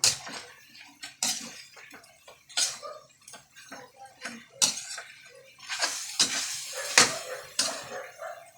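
A spoon stirs a home-cooked dish in a metal pot, making repeated close scraping clanks at an uneven rhythm over a faint sizzle, with no speech.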